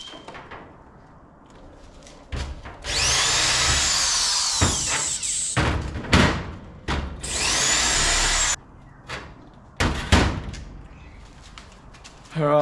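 A power tool cleans up an engine flex plate in two long, loud grinding bursts separated by short clunks and handling knocks in a workshop.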